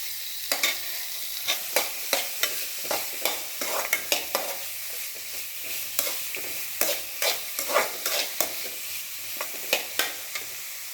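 Finely chopped beetroot stir-frying with onion and tomato in a pan for beetroot chutney, a steady sizzle punctuated by rhythmic spatula scrapes and taps every half second or so, close and alone.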